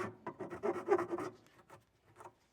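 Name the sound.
filing edges of cut speaker lid smooth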